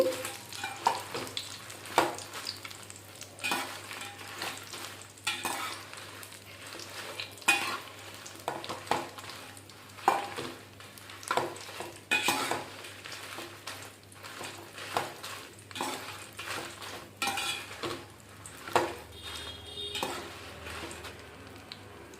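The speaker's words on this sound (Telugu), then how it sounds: "మాడకుండా వేయించుకోవాలండి ఇవి" Dried red chillies frying and being stirred in a pan, a close sizzle broken by repeated scraping strokes of a spoon at an irregular rhythm, fairly quiet and steady throughout.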